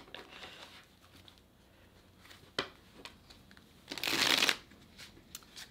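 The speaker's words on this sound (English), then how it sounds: "I'm going to clarify with another tarot deck instead today" Tarot cards riffled and shuffled by hand, soft papery flutters with a louder burst of rapid riffling near the end, close and alone without talk.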